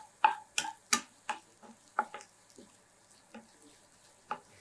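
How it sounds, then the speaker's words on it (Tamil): Onions fry in a pan for a black-eyed bean masala, with a series of sharp, irregular taps and scrapes as a spatula stirs them, quiet between strokes and with no talk. "வெங்காயம் கொஞ்சம் நல்லா செவக்கட்டுங்க."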